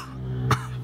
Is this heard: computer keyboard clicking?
no